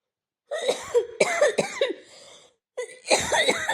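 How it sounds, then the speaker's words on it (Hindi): A person coughs in several harsh, rapid bursts, pauses briefly, then coughs again forcefully, close and clear. "खांसी आ रही है"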